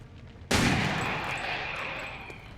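A single loud gunshot in the video game XCOM 2 cracks sharply and then trails off into a long, echoing rumble that fades slowly.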